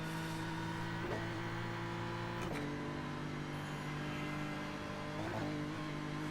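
Race car lapping during practice for the Nürburgring 24 Hours, its engine a steady loud drone broken by several brief stuttering, farting bursts as the traction control cuts in.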